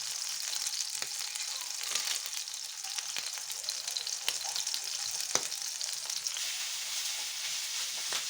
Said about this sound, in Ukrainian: Обжарувати треба зі всіх чотирьох сторін.